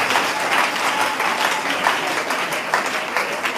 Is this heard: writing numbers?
no